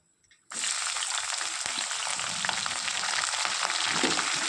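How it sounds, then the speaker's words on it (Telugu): Onion and green chilli pieces hit hot oil in a tempering after a short quiet start, bursting into a loud, steady sizzle that continues without pause, with faint clinks from a pan or spoon underneath. "తాలింపుని తర్వాత ఉల్లిపాయ ముక్కలు పచ్చిమిర్చి ముక్కలు కూడా వేసుకొని వేయించుకోవాలి"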